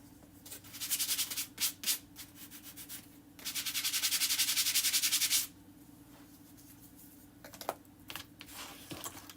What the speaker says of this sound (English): I want to give it a little sanding.